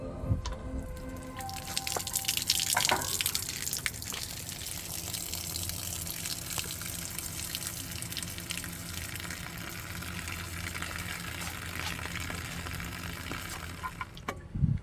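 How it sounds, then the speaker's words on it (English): Water drains from the drain plug hole of an LS engine oil pan, a steady trickle and splatter with drips, close by, and a few metallic clinks at the start and end. "take the drain plug off to drain the water from the oil pan"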